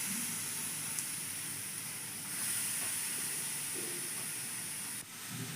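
Grated carrots fry in ghee for carrot halwa, giving a steady, even hiss of sizzling that holds at a moderate level throughout without speech.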